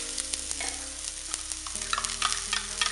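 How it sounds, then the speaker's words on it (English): Onions fry in an oil tadka of cumin and mustard seeds, a close continuous sizzle with crackling pops and occasional stirring, over a low steady hum from a nearby appliance. "let it fry for a minute."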